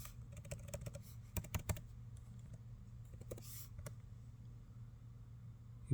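Keys tapped on a computer keyboard to enter a password at a terminal: quiet, irregular clicks in short bursts over a low background hum, with no speech.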